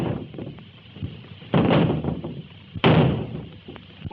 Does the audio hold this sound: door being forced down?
yes